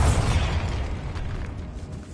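Bombarda blasting spell going off in the Hogwarts Legacy video game inside a decayed catacomb: a single heavy boom with a rumbling low tail that fades over about two seconds, loud and close, with no voices.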